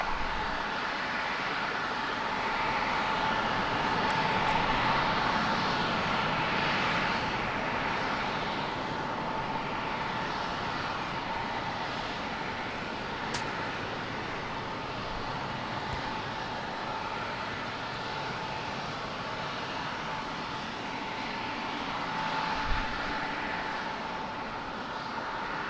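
A jet airplane takes off from runway 27 at San Diego, a steady distant engine roar that swells gently and fades, faint and continuous with no voices.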